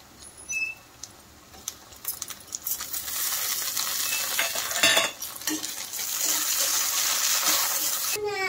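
Onions frying in oil for a rohu fish mustard curry as chopped tomatoes and green chilies go in; quiet stirring scrapes at first, then a burst of louder sizzling that holds steady.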